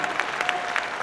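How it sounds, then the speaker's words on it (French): Audience at a regional business awards ceremony in Loiret applauding a prize winner, with a short burst of steady, close clapping and a few sharper claps standing out. "On applaudit notre lauréat."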